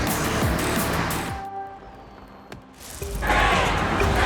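A car cruising through Tokyo at night in the racing game Forza Horizon 6, with a steady engine and road roar that dips briefly in the middle and then swells back up loud.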